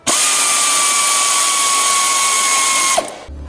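A power tool tightens bolts on a Ski-Doo snowmobile track assembly with a loud, steady whine that holds for about three seconds, then cuts off abruptly.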